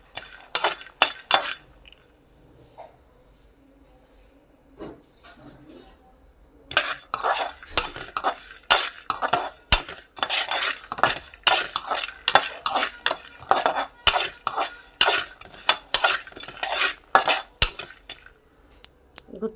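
Sesame seeds, peanuts, coriander seeds and cumin dry-roasting in a pan over low heat, with a spatula stirring, scraping and clinking against the metal. It is sparse at first, then busy and rhythmic, close, with no talk.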